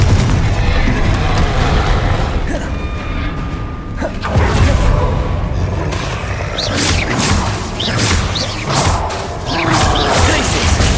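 Spells cast in the video game Hogwarts Legacy, loud booms, crashes and whooshing bursts one after another under shouted incantations.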